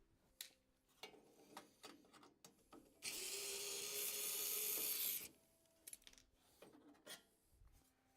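Side screws come out of a Skywalker V1 vaporizer with small close mechanical clicks and scrapes, plus one loud two-second whirring burst in the middle.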